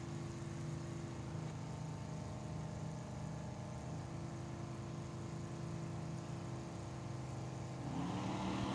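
Drag racing engines, including a 1967 Camaro, idle and rumble steadily at Tucson Dragway, a dense continuous mechanical drone that swells and builds in revs near the end.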